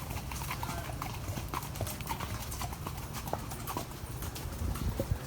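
Horse hooves clip-clop steadily beneath a rider during a trail ride in San Juan, Puerto Rico, the even footfalls close and continuous over a light outdoor backdrop.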